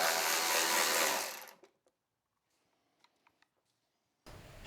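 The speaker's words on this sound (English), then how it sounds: "armed with my battery ratchet and a Torx 30, we'll proceed to remove the nav bracket" Battery ratchet fitted with a Torx 30 bit spins loudly for just over a second while removing the nav bracket on a BMW R1300 GS motorcycle. A few faint clicks follow, then a second burst of the ratchet starts at the end.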